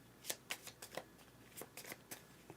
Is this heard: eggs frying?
no